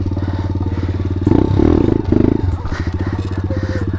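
Small pit bike engine in first gear, a close, pulsing single-cylinder idle that swells into two sharp revs as the front lifts, then drops back to a chugging throttle.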